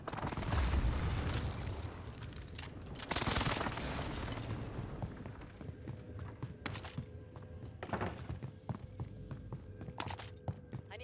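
Precision airstrike explosions hit during an online shooter match, rolling as two heavy, loud blasts followed by scattered sharp cracks and gunfire bursts at varying distances.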